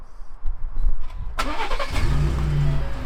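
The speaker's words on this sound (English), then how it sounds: "Truck started" A Ford Raptor truck cranks briefly and catches, powered by an auxiliary battery mounted in the bed, then settles into a loud, steady idle rumble close by after a quiet start.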